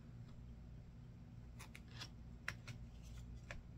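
Scissors snip through fabric to trim off the selvages, a few short crisp cuts near and fairly quiet over a steady low hum.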